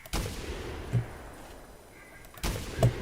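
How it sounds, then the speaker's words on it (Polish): Two sharp gunshots in the duck-hunting video game The Hunter, about a second and a half apart, each a sudden loud crack with a short thud after, against quiet background. "Dobra, no i chyba będziemy strzelać."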